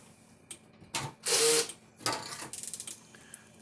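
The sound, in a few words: snips cutting a twist tie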